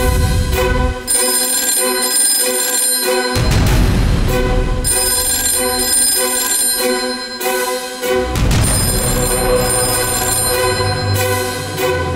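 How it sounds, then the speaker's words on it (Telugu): Landline telephone ringing loudly in a Telugu TV serial scene, repeated electronic ring bursts roughly every three to four seconds, alone with no talk. "ల్యాండ్ లైన్ కి ఫోన్ వస్తుంది."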